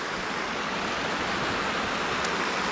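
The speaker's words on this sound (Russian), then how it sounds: "Всеми любимый саратовцами фонтан." A public fountain in Saratov gives off a steady, close, full rush of falling water with no pauses, like continuous spray splashing into a basin.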